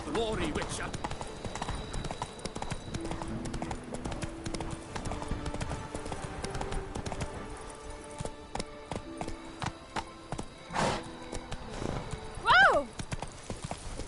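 Roach, Geralt's horse in The Witcher 3, gallops with steady hoof clip-clop across most of the run, and a neigh rises near the end, over game music and background sound effects.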